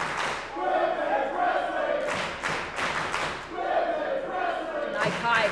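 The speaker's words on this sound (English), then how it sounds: "Crowd on their feet here in Chicago." Wrestling arena crowd in Chicago roaring and cheering loudly as both women go down after a punch, with a steady wall of noise and swelling shouts throughout.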